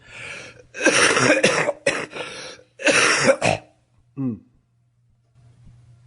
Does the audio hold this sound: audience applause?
no